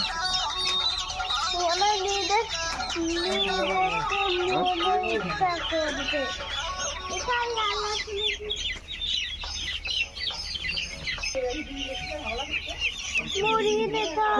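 Chickens cluck and call continuously at a poultry farm, a busy layered flock chorus that stays loud throughout, with a brief rooster crow in the mix.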